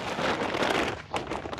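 Rain falls with a steady, dense hiss that stays fairly even throughout, with no voices.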